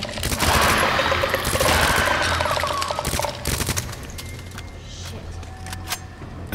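Gunfire in Resident Evil 2, with dense bursts of rapid shots for the first few seconds, then sparser single cracks and sharp impacts as the firing thins out, loud and close.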